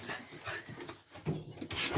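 Dogs whimper and whine softly at home before going out for a walk, a few high, thin cries over shuffling movement, with a louder burst toward the end.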